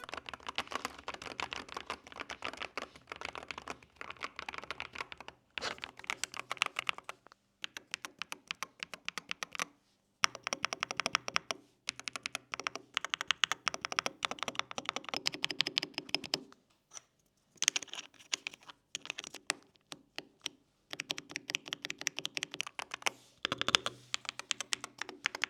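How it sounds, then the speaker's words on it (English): Steady, continuous typing on a Keydous NJ98 HE keyboard with a steel plate, dense deep clacks in fast runs broken by brief pauses, close and clear with no voices. "The typing sound is deep and heavy."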